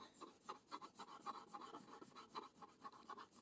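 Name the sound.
oil pastel rubbing on paper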